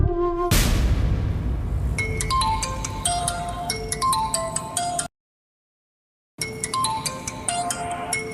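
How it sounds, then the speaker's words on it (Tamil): A mobile phone ringtone for an incoming call plays loudly and alone as a bright melodic tune, stops for about a second, then starts again. "ஏங்க, அக்கா ஃபோன் பண்றாங்க, என்னன்னு கேளுங்க."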